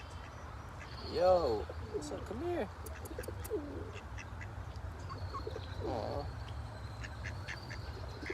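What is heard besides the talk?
birds calling outdoors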